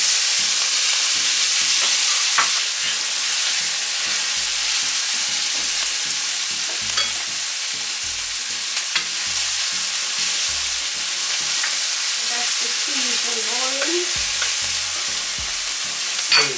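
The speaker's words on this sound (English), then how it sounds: "we are gonna start to cook up this seasoned rice, which is ackee and saltfish and salt beef" Seasoned rice with ackee, saltfish and salt beef cooks in a pot, giving a steady close sizzle with repeated scrapes and knocks of a spoon stirring through the mix.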